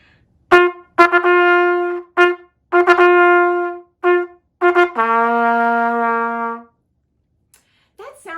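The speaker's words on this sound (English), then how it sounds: "It's actually my son Tommy's trumpet" A boy's trumpet played by a French horn player at a church Sunday school: a close, loud fanfare-like call of short tongued notes building to one long held tone, brief noise at the end.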